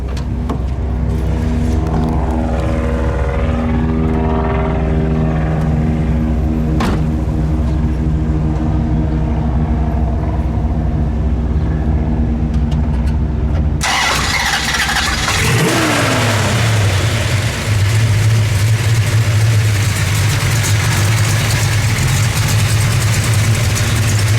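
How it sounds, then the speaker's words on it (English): A loud, deep engine of a 1971 Dodge Charger R/T 440 Six Pack rumbles and revs unevenly, then cuts to a sharp change as it settles into a steady, throaty V8 idle with a lumpy low burble. "let's fire it up, shall we? All right. We'll let it idle."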